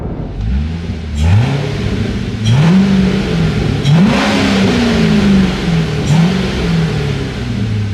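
A C6 Corvette fitted with a Vararam cold air intake pulls hard through several gears, each rising engine roar dropping at a shift before climbing again, loud and steady with no talk.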